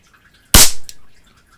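A single sharp, loud crack from a vintage Shakespeare Acro CO2 air rifle firing close by, followed by a brief trailing decay and then quiet.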